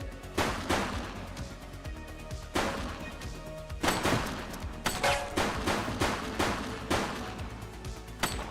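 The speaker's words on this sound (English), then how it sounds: "Shots fired!" Repeated sharp gunshots and automatic bursts in The Precinct police game, loud and close, in clustered volleys with short gaps.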